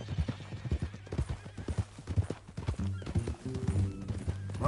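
A horse in the Red Dead Redemption 2 video game clip-clops with rhythmic hooves on the ground, then gives a loud, close whinny near the end, with no talk over it.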